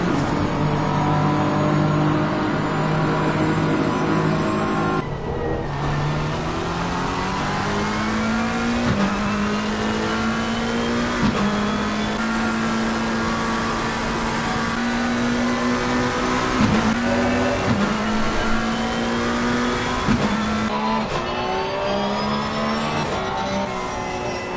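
A race car engine in a racing video game at Imola roars continuously at high pitch, climbing through the revs with several sharp gear-change drops, loud and close with no talk.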